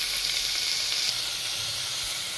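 Chopped onions and tomatoes frying in a hot pan, a loud steady sizzle and hiss filling the short stretch without any talking.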